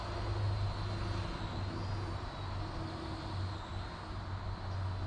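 A cheap drone carrying a swinging weight for ham radio antenna work flies with a steady, loud motor and propeller whine and hum throughout, continuous and close, with no talk.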